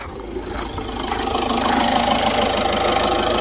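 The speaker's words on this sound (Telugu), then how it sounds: "ఇంజన్ యొక్క నాయిస్ వినొచ్చు మీరు" A 2014 Ford EcoSport engine idles with a steady, close, even hum and a faint rhythmic ticking underneath, continuous throughout without talk.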